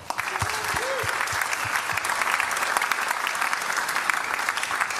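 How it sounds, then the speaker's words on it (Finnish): Steady audience applause fills a drum clinic given by Kepa Kettunen of Agents, a dense, even wash of clapping from a crowd that holds at full strength throughout, with a brief voice heard faintly near the start. "Eiköhän anneta vielä aplodit 25 vuotta täyttävälle Daffy"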